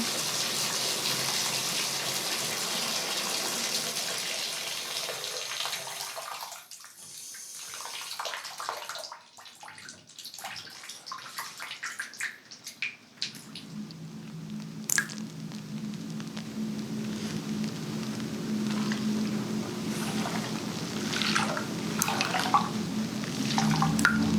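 Water runs into a tub with a steady hiss and gush, briefly quieting midway before the flow resumes with squishy splashes and drips.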